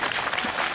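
Audience applause, a dense, steady wash of many hands clapping, loud and continuous through a very short stretch.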